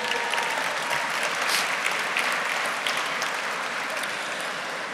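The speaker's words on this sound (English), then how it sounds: "Please give them a round of applause" A gala audience gives a round of applause, a broad steady wash of many hands clapping that fills the room evenly from start to finish at moderate distance.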